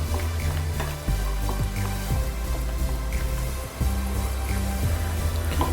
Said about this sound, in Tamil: ஆயில் சூடானதும் முந்திரியை ஃப்ரை பண்ணிக்கலாம்